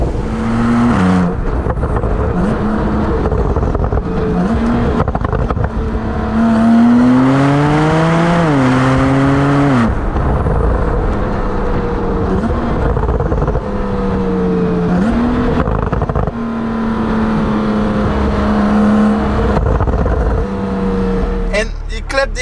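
Stage 2 Porsche 911 Turbo fitted with an Akrapovic exhaust, loud and close as it drives, the engine note sweeping up and down through repeated accelerations and revs, with a person talking over it and a crackle near the end.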